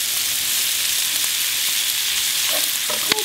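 Corned beef, garlic and sprouts fry in a pan with a steady, close hiss and sizzle, punctuated near the end by a few light clinks and stirring taps.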